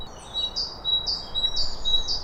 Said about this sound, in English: Now that sort of laughing noise, is that a green woodpecker?